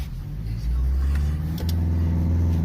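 A Maruti Brezza on a mountain slope lugs at low revs, its engine droning in a deep, strained hum that surges and wavers as if about to stall, close and steady.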